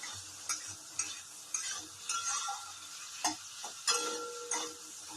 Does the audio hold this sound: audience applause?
no